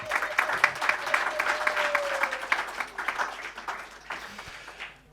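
An audience at a Zimbabwe tourism presentation breaks into a sustained round of applause to welcome a speaker, dense crowd clapping heard from within the room that tapers off near the end.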